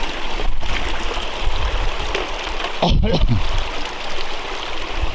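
A mountain creek on a hiking trail up to St. Peters Dome pours steadily over small step waterfalls. The rushing flow is continuous and fairly close, with a brief splash or step near the middle.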